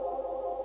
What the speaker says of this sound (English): If I take away the reverb, it sounds like this.